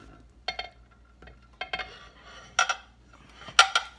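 Someone handles a non-stick All-Clad pan, giving a few separate clinks and knocks of metal cookware close by, with clusters of sharp taps and quiet gaps between them.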